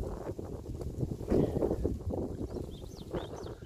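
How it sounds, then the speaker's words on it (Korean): Strong wind gusts blow through a plum orchard outdoors, a rumbling, buffeting rush against the microphone that swells and eases over a few seconds, with no talking. "바람이 많이 불고 있습니다."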